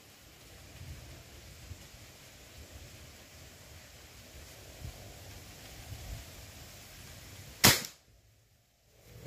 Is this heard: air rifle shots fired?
yes